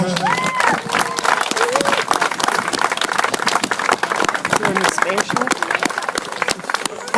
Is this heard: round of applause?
yes